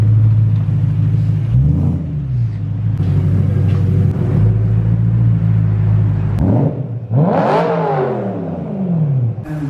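A BMW E92 M3 with a Valvemaster catback exhaust rumbles at low speed with a deep, steady drone, then revs up in a brief rising surge near the end.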